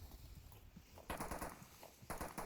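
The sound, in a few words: gunfire in the VR video game Onward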